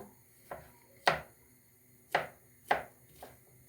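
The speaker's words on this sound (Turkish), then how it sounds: "Bütün mantarlarımı bu şekilde keseceğim." A knife chops through mushrooms on a board for a vegetable mushroom sauté: five separate, sharp, close-up chops at an uneven pace, with no talking.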